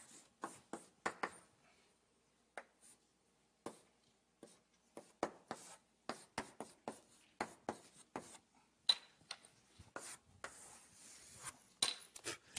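Marker strokes on a board in an MIT circuits and electronics lecture hall: irregular bursts of short squeaky scratches, quiet and close, separated by brief pauses, with no talking.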